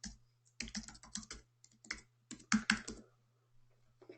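Keystrokes on a new computer keyboard clatter in quick bursts of clicks, pausing briefly between runs, close and clear with no talk over them.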